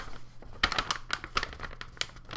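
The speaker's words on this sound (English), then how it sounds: "Crinkling up that bag." A bag is crumpled and crinkled by hand up close, giving a quick run of crisp, rustling crackles with uneven bursts and no talking.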